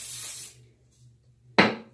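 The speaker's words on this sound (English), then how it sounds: "I like to add a little hairspray." Hairspray spritzed onto a front section of hair near the crown: one close hiss lasting about half a second, a quiet pause, then a second short, sharp burst that fades out.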